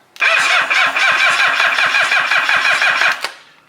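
A new starter motor on a Kawasaki STX 15F jet ski cranks the engine in a fast, even series of loud pulses for about three seconds, close up, then cuts off abruptly.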